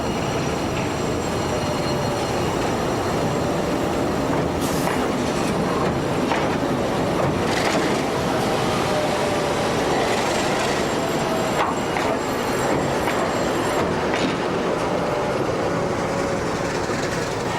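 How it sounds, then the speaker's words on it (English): A Portuguese Railways 1900 class diesel locomotive engine on a load bank test roars steadily and loudly throughout, with a continuous dense rumble, occasional metallic squeals and clanks from nearby rail equipment. "The noise from the various locos on test, including this 1900 class, is often deafening"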